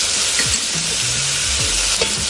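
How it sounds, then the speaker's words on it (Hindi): Vegetable momo filling fries loud and close as spices are stirred in, a steady dense sizzle with faint scraping moving through it, no talking. "इस तरह से मसालों को हम मिक्स कर लेंगे।"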